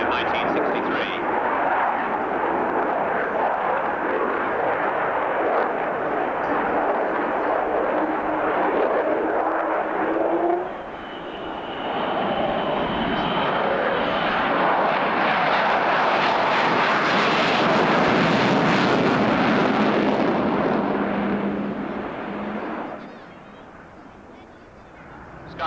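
An Avro Vulcan bomber makes a low pass at an airshow at RAF Abingdon, a loud, sustained jet roar that swells and fades across the pass while a commentator talks over it.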